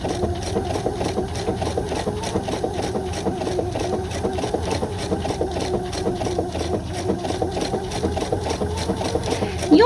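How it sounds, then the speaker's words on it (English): A sewing machine stitches slowly around layered applique pieces, giving a steady, rhythmic mechanical chatter with a low motor hum throughout, close and alone. "I'll stitch around the bottommost applique piece first, and then I'll build on top of that."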